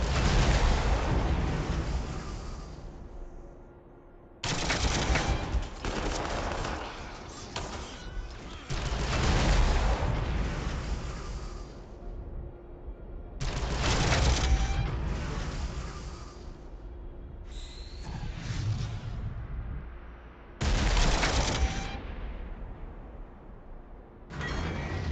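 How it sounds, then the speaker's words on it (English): Cannon fire in the Warhammer 40k Armageddon strategy game, heard as repeated loud, broadband booming bursts with rumbling decays, several volleys spread across the clip. "Well, I will continue shooting."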